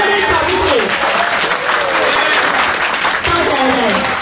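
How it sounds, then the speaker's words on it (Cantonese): An audience gives loud, sustained applause with cheering for the Gentlemen Committee at a 2007 annual general meeting, a dense crowd of clapping hands that holds steady throughout, with voices mixed in. "再一次俾一次掌聲"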